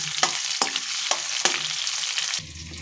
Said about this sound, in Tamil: கட் பண்ணி வச்ச கத்திரிக்காய் வெங்காயம் தக்காளி இதெல்லாம் நல்லா வதக்கிட்டுக்கோங்க